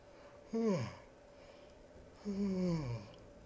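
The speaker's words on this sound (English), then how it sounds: "Sorry, I yawn a lot when I commentate" Two drawn-out human yawns, each a groaning vocal sound sliding downward in pitch, fairly close, separated by a short quiet gap.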